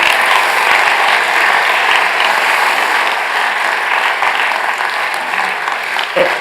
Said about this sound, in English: I think he needs a massive, massive applause